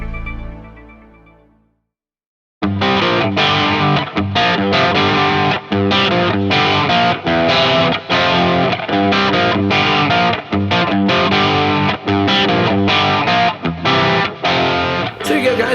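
Electric guitar played through a Friedman IR-J tube-powered amp in a box: loud, distorted riffing with steady palm-muted chugs and punchy accents, starting after a brief fading ring and short silence.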